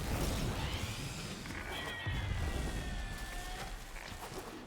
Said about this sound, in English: See, that little noise is a Bonvalist.